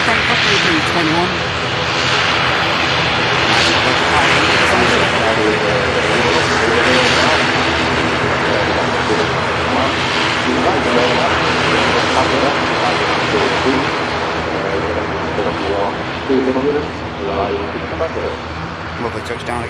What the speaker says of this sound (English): Lovely touchdown again. And with that, the A380 now commences the taxi over to the second runway at Manchester